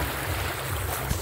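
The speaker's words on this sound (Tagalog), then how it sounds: "Lakas ng ilog." Strong, fast-flowing river at night, a loud continuous rushing roar with wind buffeting the microphone.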